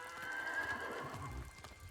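A horse in the video game Ghost of Tsushima whinnies once in a drawn-out, wavering call, with a low thud of hooves near the end.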